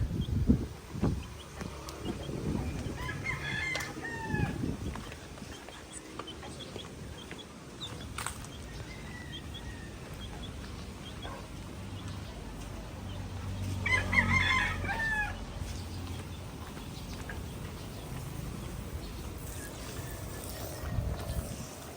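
Chickens and roosters in a small backyard coop, with crowing and clucking rising twice over a steady murmur of nearby birds, heard alone without talk.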